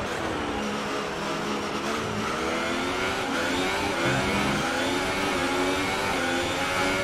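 A Ferrari Formula 1 car in F1 2018 screams down a long straight, its engine holding a loud, dense, high-revving whine that climbs steadily through the gears without pause.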